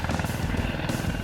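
An air medical helicopter based in Elkin, a steady pulsing rotor chop with a rhythmic low beat and engine whine, loud and close, alone without voices.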